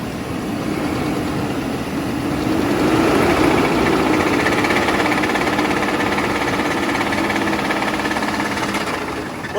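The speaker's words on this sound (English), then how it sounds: "Yeah, the engine's vibrating in here." A car engine idles steadily with a noticeable vibration, held at around 2,000 rpm while showing a fault; the running hum fills the whole stretch at an even, close level.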